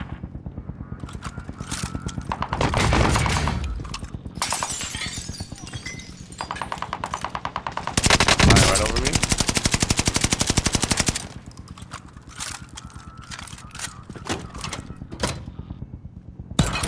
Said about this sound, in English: So someone shot at me.